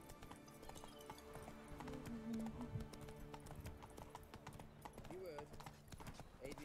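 The horse Roach in the video game The Witcher 3, hooves clip-clopping in a steady rhythmic gait, close and quiet, with a brief whinny midway and a person talking over it.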